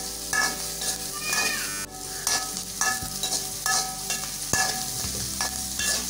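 Pirandai sautéing in sesame oil crackles and sizzles continuously in a pan, with a spoon stirring and clinking against the metal in close, uneven strokes.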